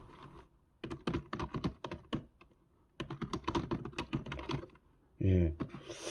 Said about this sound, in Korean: 약간 고무에 고무에 키보드를 친다는 느낌이 지울 수가 있군요